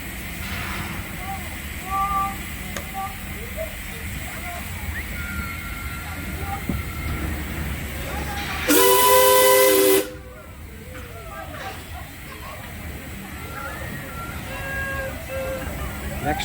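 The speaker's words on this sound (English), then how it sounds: "here we go on a steam engine ride around the lake" A loud steam locomotive whistle blasts for about a second over a constant hiss of steam, at a miniature lakeside railway in South Marine Park, South Shields, with people talking nearby before and after.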